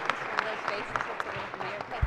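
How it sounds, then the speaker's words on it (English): A crowd applauds in a state Senate chamber during a floor session, a steady dense patter of many hands clapping in a large room. "give them a round of applause"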